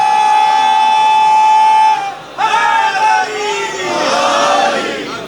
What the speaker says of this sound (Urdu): بلندر صلوات پڑھیں گے محمد والے